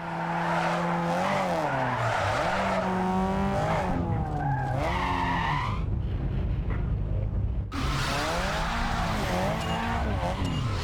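A Corolla drifts in Need for Speed Underground 2, its engine revving and shifting while tires squeal and skid continuously at close range, with a brief drop-off midway before the screeching resumes.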